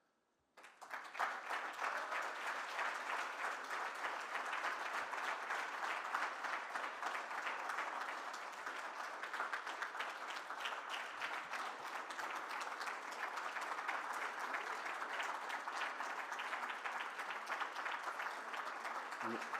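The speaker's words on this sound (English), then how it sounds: "Another round of applause." Closing plenary audience bursts into applause after a brief quiet moment, then a large crowd claps continuously and evenly for nearly twenty seconds, dense and sustained without voices.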